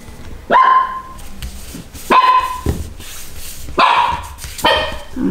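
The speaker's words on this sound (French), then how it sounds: "Excuse pour mon chien qui aboie." A dog barks indoors in four separate close, loud bursts spaced about a second and a half apart, each sharp yelp trailing off briefly.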